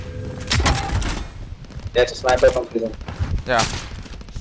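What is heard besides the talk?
gunfire from a sniper in a video game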